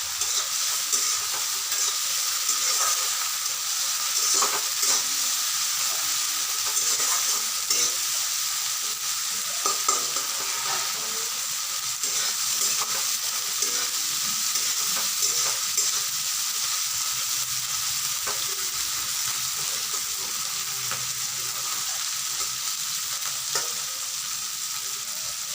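Oil sizzles steadily in a pan while making bottle gourd with prawns, with a utensil scraping and stirring at intervals close by and no talking.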